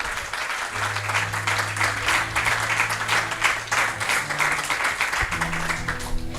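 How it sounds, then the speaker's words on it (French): Church congregation applauding during a service, dense sustained clapping throughout with low sustained music tones underneath. "Acclamons Jésus-Christ."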